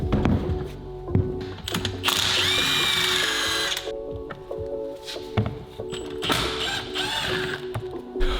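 A motor being taken off a motor stand with power tools, loud close whirring bursts from a drill or impact driver broken by metallic clunks and ratcheting clicks.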